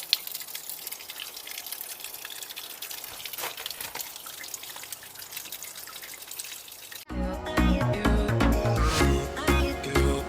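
Water drains and trickles from an RV hot water heater with its drain plug removed, a steady faint dribble for about seven seconds before louder, unrelated sound takes over.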